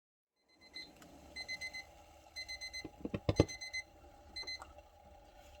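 Repeated electronic timer beeps from a Bulin 5800 W camping stove, sounding in short bursts of several quick chirps with brief pauses between groups, moderately loud and close, with no talk over them.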